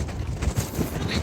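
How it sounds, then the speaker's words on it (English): Strong wind gusting across a cruise ship deck, a loud, close, buffeting rush battering the microphone in brief bursts with no other sound. "Really windy out."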